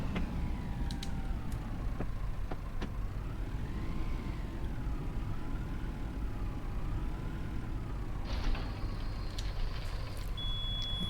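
A tractor with a bale wrapper works steadily through a silage bale wrap, its engine a constant low rumble with a wavering whine over it, a few clicks, and a brief high beeping near the end; no talk.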